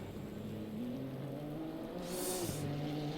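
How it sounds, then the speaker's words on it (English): Race cars at Monza in a racing video game, engines droning and shifting pitch steadily as they run around Curva Grande, with one car's higher whine rising briefly near the end. "But currently on with Craig here as he's coming around Curva Grande now."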